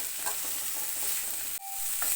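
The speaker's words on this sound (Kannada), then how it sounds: "ಚೆನ್ನಾಗಿ ಸ್ವಲ್ಪ ಹಾಗಲಕಾಯಿನ ಒಗ್ಗರಣೆಗೆ ಬೇಯಿಸ್ಕೋಬೇಕು" Bitter gourd pieces fry in tempering oil in a pan, a soft, steady sizzle with faint stirring scrapes, quiet and continuous with no voices.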